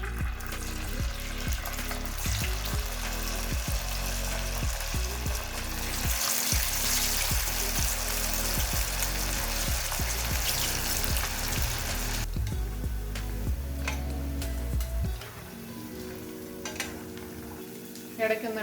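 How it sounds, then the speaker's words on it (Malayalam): Battered cauliflower pieces for Gobi 65 deep-fry in hot sunflower oil with a loud, steady crackling sizzle. The texture shifts partway through as the pieces are stirred, then settles into a lighter bubbling. "ഇനി ഓരോന്നോന്നായിട്ടിട്ട് ഫ്രൈ ചെയ്തെടുക്കാം."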